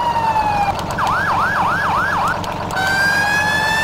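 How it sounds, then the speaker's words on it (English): Wailing fire engine siren in Farming Simulator 17, with a Federal-style wail tone sweeping up and down in a rapid, regular cycle between steady tones, loud and continuous with no talk. "Also have our sirens."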